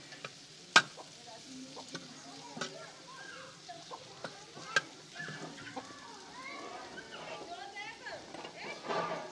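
Liver (kaleji) sizzles and frying on a tawa is stirred with scraping, clinking strokes and a soft continuous crackle, moderately close, while a voice talks over it.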